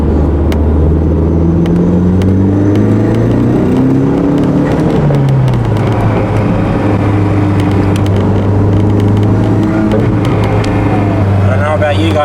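An Audi S3 pulling hard in third gear up to 80, its engine note climbing steadily and loud throughout with a rising whir, heard from inside the car over road noise.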